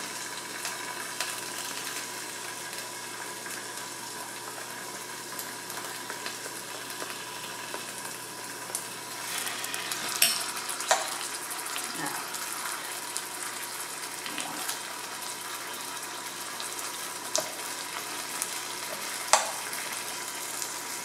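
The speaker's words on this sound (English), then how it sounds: "So let's put in our beef." Beef and smashed garlic fry in a pot with a steady, dense sizzle, broken by occasional clinks and scrapes from stirring, with no voices.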